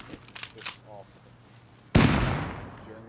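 A single loud shot or burst of gunfire in Rust cracks out and decays over a second, after a stretch of muffled talking and clatter.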